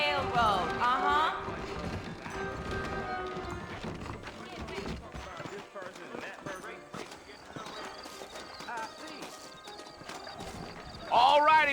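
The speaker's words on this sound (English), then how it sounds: "I got the horses saddled up and ready out front." Horses clip-clop at a steady trot in the Red Dead Redemption video game, the rhythmic hoofbeats running under ongoing voices and game ambience, with a louder burst near the end.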